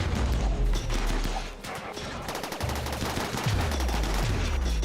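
Gunfire in the colony-building game RimWorld: dense, loud rapid shots rattle almost continuously, with a brief dip before the volleys resume.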